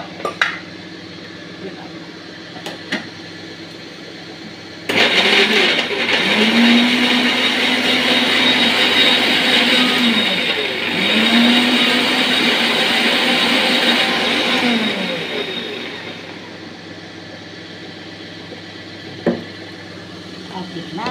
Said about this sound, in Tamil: இதை பாருங்கள், ஜாடியில் அரைக்கிறேன்.